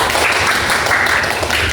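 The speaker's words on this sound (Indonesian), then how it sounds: "Tepuk tangan untuk Mbak Sela" Brief, dense applause from a Year 9 classroom of pupils cheering a classmate. Many hands clap at once in a loud, steady wash that is close and unbroken.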